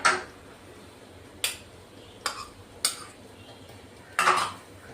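Crushed peas, grated beetroot and carrot get mixed in a bowl, with five sharp utensil clinks and scrapes at uneven intervals over a quiet background.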